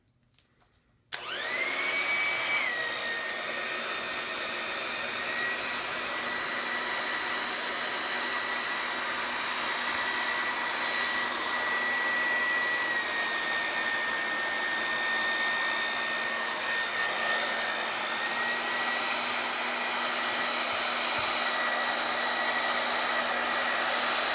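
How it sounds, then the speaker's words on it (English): A hair dryer switches on and blows in a steady, loud whir with a high whine that holds for over twenty seconds, with no talking. "On my hair dryer, I have a button I can push to make it cool"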